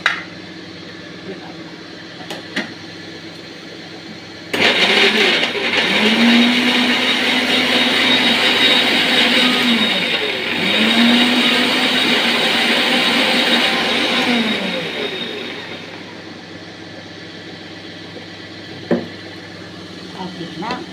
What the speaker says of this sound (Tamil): இதை பாருங்கள், ஜாடியில் அரைக்கிறேன்